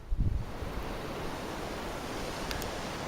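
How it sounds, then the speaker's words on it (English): A waterfall on the Annapurna trek in Nepal gives a steady, even rush of broadband water noise, with a brief low thump near the start and no voices. "Waterfall."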